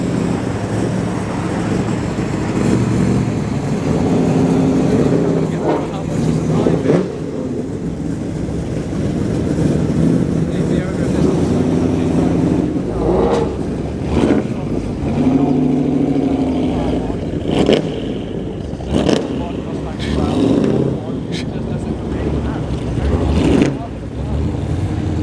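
Car engines rumble at a busy car meet as a TVR and other vehicles pass nearby in rising and falling drones, with people talking over the steady noise throughout.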